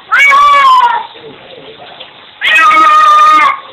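A cat gives two loud, drawn-out meows with a pause between them while its owner washes it with water.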